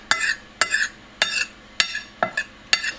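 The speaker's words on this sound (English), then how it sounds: "mix it all up on the plate with a spoon, just get it in there, just a good mix round so all the flavours are blended" A spoon scrapes and clinks against a plate while curry spices are stirred together for a chicken curry, six sharp strokes in a steady rhythm, close and clear with nothing else heard.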